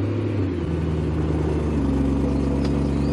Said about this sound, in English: I will start the car up so you can hear the absolutely gorgeous engine